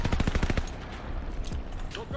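A DP-27 light machine gun fires a rapid burst in Call of Duty Vanguard, about half a second of sharp repeated shots, followed by a couple of isolated bangs amid faint game noise.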